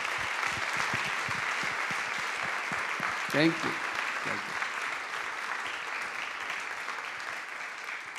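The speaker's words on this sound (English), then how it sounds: "Let's give a big applause for the mayor." An audience claps continuously in steady applause for a mayor at a social business summit while a speaker briefly talks over it.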